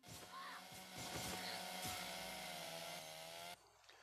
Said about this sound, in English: let's go with chainsaw